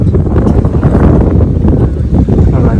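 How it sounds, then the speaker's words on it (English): Strong wind at a jetty buffets the microphone in a continuous loud roar, rumbling and steady for the whole stretch with no clear voices. "You probably cannot hear me over the wind."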